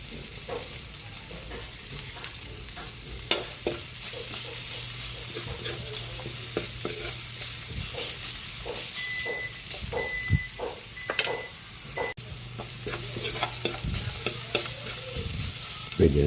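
Garlic and onion sauté in a hot pan with a continuous close sizzle, scattered crackles and clicking stirring taps over a low steady hum, without pauses for the whole stretch.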